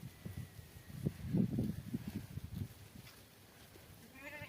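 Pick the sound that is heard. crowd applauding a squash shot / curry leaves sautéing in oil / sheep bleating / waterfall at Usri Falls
sheep bleating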